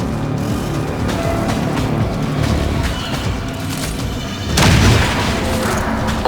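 Gunfire and explosions in the video game XCOM 2 rumble and crack through a dense battle mix, with a louder booming burst near the end over constant low-end noise.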